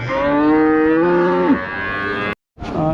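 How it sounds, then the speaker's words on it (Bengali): At a cattle market in Rajshahi, a cow gives one long, loud, close moo, then a short break and the start of a second moo. "এখানে একটা সুন্দর গাভী দেখা যাচ্ছে"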